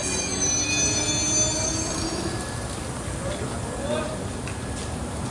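A train car rolls in with high, shrill wheel squeals over a steady rumbling clatter that continues throughout.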